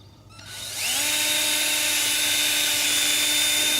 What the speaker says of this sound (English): let me try and drill holes to put the wire through